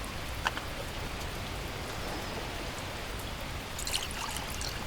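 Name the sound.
rain in video game The Last Plague: Blight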